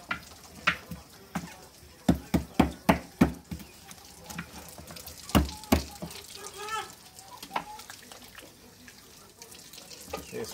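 Water runs from a kitchen tap into a sink while a free-range chicken is washed, with splashing and sharp knocks and thuds at irregular intervals, and a voice heard briefly.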